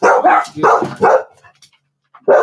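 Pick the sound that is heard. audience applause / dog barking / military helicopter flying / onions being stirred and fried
dog barking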